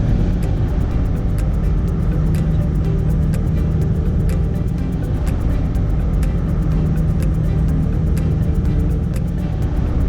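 A Mercedes-Benz Axor 3344 truck engine pulls at full power around 1,100 to 1,200 rpm, a loud, steady, close diesel rumble heard from inside the cab with no talking.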